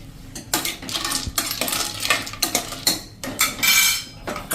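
Ice cubes and black chickpeas clatter and scrape in a metal pressure cooker as they are stirred, a series of close, rattling metallic knocks with no talking.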